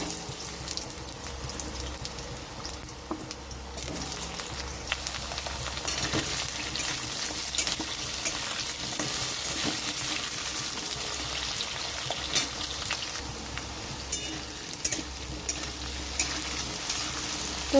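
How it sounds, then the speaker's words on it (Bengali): Potatoes sizzle in hot mustard oil with whole cumin, a steady close frying hiss with occasional scrapes and clinks of stirring, no talking. "জিরাটা একটু হয়ে গেছে ভাজা। তো এখানে আমি দিয়ে দিচ্ছি আলু।"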